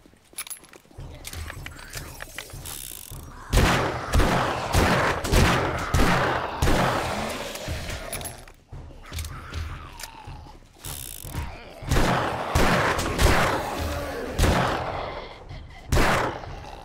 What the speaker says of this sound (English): Let's use my new gun.